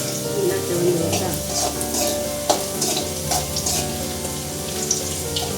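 Garlic frying in plenty of oil in a pan for vatha kuzhambu, a steady loud sizzle and crackle close up, with a few sharp pops and light stirring.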